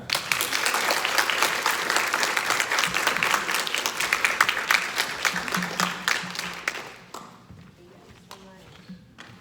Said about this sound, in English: Let's all give a warm Firebaugh welcome to Marguerite Alexis Pereira.